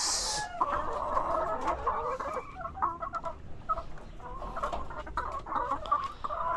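Several chickens cluck and murmur nearby in an uneven, continuous chatter, with occasional sharper calls and soft rustling underneath.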